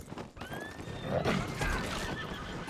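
A horse neighs loudly and close by in Red Dead Online, a drawn-out whinny with a few hoof clops in the background.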